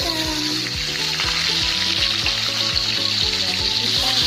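Salted fish frying in hot oil for Sundanese nasi liwet, a steady close sizzle filling the whole moment alongside a rhythmic low mechanical pulsing, with no talk.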